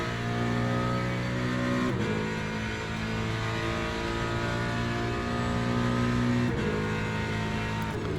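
Ford Mustang race car in Le Mans Ultimate, engine droning loud and steady with strong harmonic tone, revs dropping briefly around two seconds and again near six and a half seconds before climbing back.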